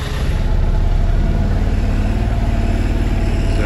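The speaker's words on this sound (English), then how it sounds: "To start these, you either need to hold the front or the rear brake." A Vespa GTS 300 Super scooter engine runs steadily at close range with an even, throbbing idle and no talk.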